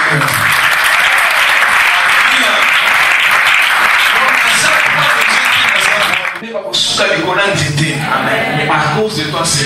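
A church congregation claps and cheers in sustained, loud applause with voices shouting over it, briefly dipping before the clapping resumes.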